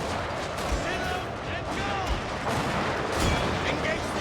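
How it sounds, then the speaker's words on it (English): Matchlock infantry gunfire in the strategy game Total War: Shogun 2, a dense continuous crackle of musket volleys and booms mixed with battle din, loud throughout. "Matchlock Kachi, attack from the rear. There we go. Surrounding. Open fire."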